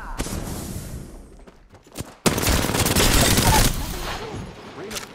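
Automatic gunfire from the video game Apex Legends erupts in bursts: a few sharp opening shots, then a loud sustained volley lasting over a second before it fades into quieter echoing shots.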